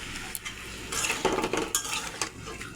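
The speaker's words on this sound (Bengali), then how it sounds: "এবার আর একটু জল দিয়ে দেবো।" A spoon scrapes and clatters against a pan as fried vegetables with spices and a little added water are stirred, with irregular knocks and soft sizzling, close by with no talking.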